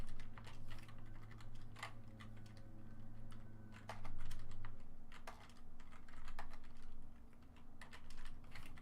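Rapid typing on a computer keyboard, a steady run of close, crisp key clicks with short pauses, over a low hum that cuts out midway.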